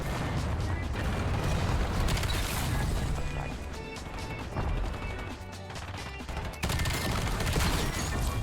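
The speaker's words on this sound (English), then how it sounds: "Especially with the belt fed attachment on this gun. You just can keep shooting" An XM325 belt-fed machine gun in Black Ops 7 fires in a long, dense, sustained burst of rapid, loud shots with crashing impacts. It keeps going for several seconds with only a brief dip before resuming.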